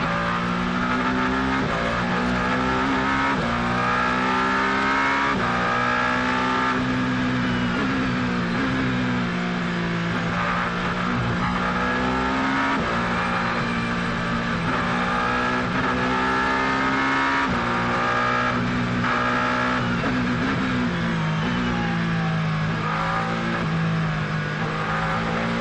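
Race cars at the TotalEnergies 6 Hours of Spa 2025 endurance race, engines roaring and revving loudly and continuously as the pack runs close together, with rising and falling pitch through gear changes.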